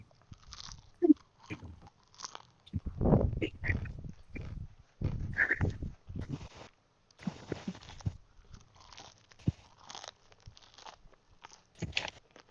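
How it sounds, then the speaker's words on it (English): Someone chews crunchy, cold Wingstop fries close to the mic, with irregular crisp bites and crunching bursts separated by short pauses. "Why is your fries crunchy?"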